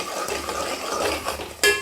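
Spiced tempering for a sambar frying in a pan while being stirred, with soft sizzling, scraping and a couple of utensil clinks, ending in a sudden louder burst of hiss.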